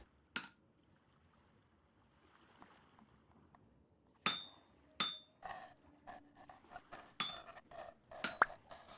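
Iron being hammered on an anvil while smithing tools in the survival game Vintage Story: one sharp metallic clang, then a pause, then a run of irregular ringing strikes with bright clinks, close and clear, with no talking.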